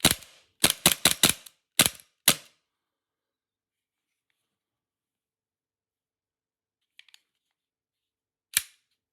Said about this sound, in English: let's just cock it and dry fire it a little bit so you can see how snappy it is